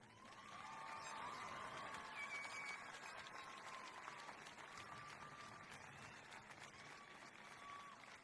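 Faint, sustained applause from a high school commencement crowd for students entering the military, a steady distant patter of clapping with scattered cheers over several seconds.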